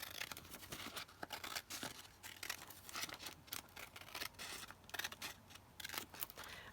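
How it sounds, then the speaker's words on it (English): Scissors cutting paper for making tags, a quick run of close, crisp snips and slicing rasps in an uneven rhythm, fairly faint, without talk. "Just going to cut this down."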